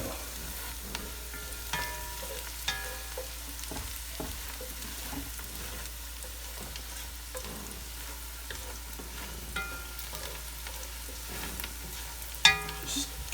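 Onions fry in oil in a pan with a faint, steady sizzle, punctuated by occasional scrapes and clinks of a utensil as they are stirred, quiet and close.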